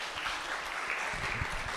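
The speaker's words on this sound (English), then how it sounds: "Please clap for her." A small class at a Friday hymn lesson claps for a student, a brief patter of scattered, fairly quiet applause from a few people nearby.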